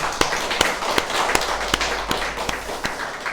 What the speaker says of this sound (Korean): 환영과 축복의 박수로 맞이하겠습니다